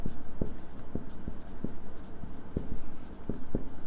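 Pen or pencil writing a line on paper, a series of short scratchy strokes with brief pauses between them, close and clear with no talking.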